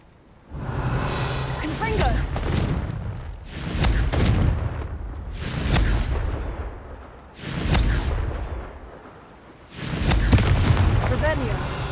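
Repeated spell blasts from the Confringo fire spell in Hogwarts Legacy, five loud booming bursts in a steady rhythm, each with a sharp onset and rumbling tail, alternating with quieter gaps.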